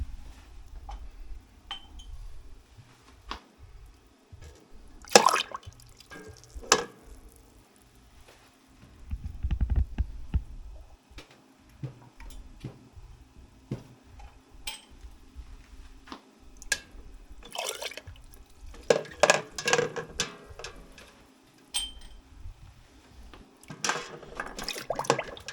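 Glass jam jars lowered into hot sanitizing water, with scattered clinks, knocks and splashy watery sloshes at close range, irregular and moderately quiet over a faint background.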